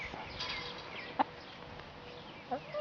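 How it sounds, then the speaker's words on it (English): Several chickens cluck softly and steadily at a slight distance, with a couple of sharper, louder clucks standing out from the murmur. "Chicken!"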